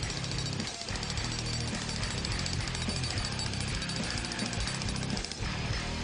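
A DeWALT D25980K heavy-duty pavement breaker hammers steadily and loudly, its rapid impacts forming a continuous pounding roar with two brief dips, close up and with no talking.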